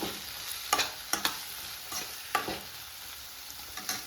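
A spoon stirs salt and chopped coriander into a thalipeeth mixture in a hot pan, with scraping strokes at an uneven rhythm over a low, steady sizzle, close and fairly quiet.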